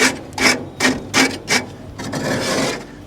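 A metal paint scraper rasping grease and gunk off the flavorizer bars of a Weber Genesis gas grill, in five or six loud, close scraping strokes with short pauses, the last one drawn out longer.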